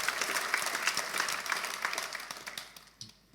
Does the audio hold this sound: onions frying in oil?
no